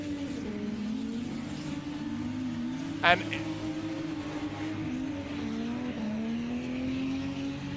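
Drift cars battle in a SUPERDRIFT competition round, engines wailing and rising as they rev, with a brief sharp tire squeal partway through, heard at a distance beneath an excited commentator.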